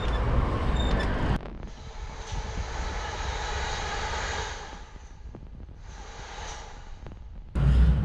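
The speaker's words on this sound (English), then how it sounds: "as you can hear, there's a train to my left. So there is the South Western main line just running over there" A train runs along the South Western main line near Wimbledon, heard from a bike: a steady, loud, broad rumble and rush that carries on for several seconds, with brief shifts in tone.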